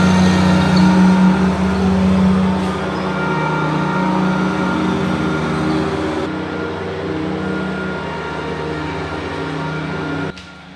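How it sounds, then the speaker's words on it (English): A tractor engine runs loud and close as it drives past, keeping up a steady mechanical rumble that eases slightly as it moves on, and then cuts off abruptly near the end. "There's a tractor at the moment."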